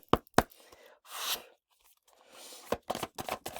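Tarot deck being shuffled by hand at close range: quiet papery riffles and rustles broken by crisp snaps and taps of cards, irregular and soft.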